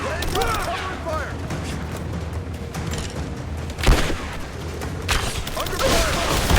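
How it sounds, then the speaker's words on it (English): Gunfire and explosions in a Rise of the Tomb Raider battle scene, with dense bursts of shots and a couple of louder booms around the middle and later, under shouted combat callouts from soldiers. "Laying down cover fire!"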